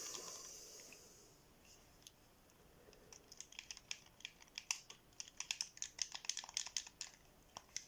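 Buttons on a Big Ben game controller click in quick, uneven bursts, faint at first and growing denser and sharper toward the end against a soft background hiss.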